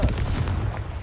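A Confringo fire spell explodes in Hogwarts Legacy: a single loud, booming blast with a dense rumbling body that fills the brief moment and fades slightly toward the end.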